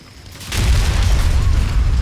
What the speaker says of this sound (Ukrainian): Вистріл.